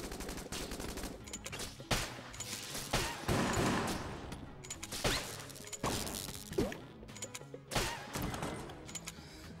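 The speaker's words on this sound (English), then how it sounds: "This is the charge shot, which is okay." The charge shot gun in the video game Enter the Gungeon fires in dense, rapid bursts of gunfire and impacts, loud and continuous with repeated punchy blasts.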